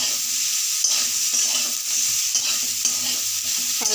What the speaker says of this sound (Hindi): सब्जी मसाला वो भी हम इसमें डाल रहे हैं और इनको लगातार भूनेंगे